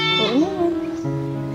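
Goat bleating up close, a wavering harmonic cry lasting over a second, with a steady tonal hum running underneath.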